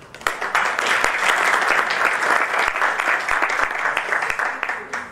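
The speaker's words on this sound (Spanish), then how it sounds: "para quienes respetuosamente solicito aplausos." Applause rises at an adult education gathering for coalition directors Cecilia Gómez and Marielena Urbano, a loud crowd of clapping hands that swells quickly, holds steady, then begins to thin out at the end.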